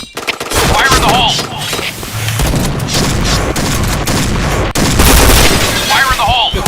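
Grenade blast and heavy gunfire in the shooter game PointBlank, a dense, loud barrage of shots and booms with rapid bursts, continuous for several seconds, with faint voice callouts mixed in.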